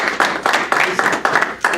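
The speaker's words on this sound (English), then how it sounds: "Round of applause for Allison." Applause at a final presentation, heard as a few close, rhythmic claps repeating in regular bursts roughly every quarter second.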